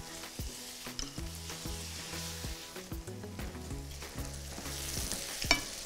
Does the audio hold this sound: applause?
no